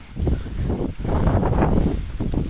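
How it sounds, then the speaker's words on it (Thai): Strong cold-season wind blusters steadily across the microphone outdoors in a natural spot with rocks and banana trees, a continuous rough roar with no talk. "ลมแรงครับหน้าหนาวแล้ว"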